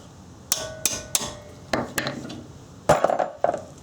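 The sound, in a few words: hammer tapping brake caliper fastener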